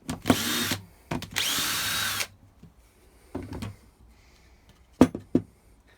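A power drill backs screws out of a plywood template in several short whirring bursts, two of them longer, with clicks and clunks in the quiet gaps between them.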